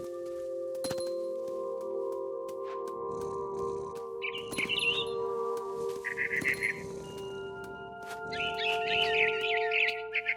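A mama bird up in a big tree in What Remains of Edith Finch gives three short, bright chirping bursts over a steady humming drone, with a few sharp clinks scattered throughout.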